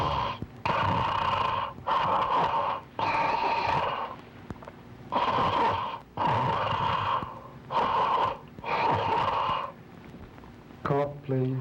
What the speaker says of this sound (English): Snore, please